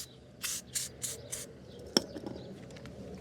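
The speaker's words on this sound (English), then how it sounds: "I've got some lithium grease in spray form." Lithium grease spraying from an aerosol can onto the swivel seat mechanism of a VW T4 Autosleeper Trophy, heard as four short hissing bursts close to the microphone, followed by a sharp click and quiet handling.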